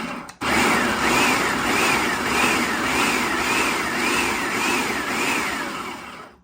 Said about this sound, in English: So we'll start just by hitting the pulse button and giving everything a nice chop.